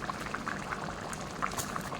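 A thick blended rice mixture is poured into a pot, soft bubbling and gurgling close by, brief and fairly quiet, no speech.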